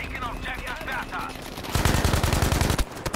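Rapid automatic gunfire rattles in Battlefield V, a loud fast burst of shots that starts after someone shouts excitedly and runs for over a second before stopping abruptly.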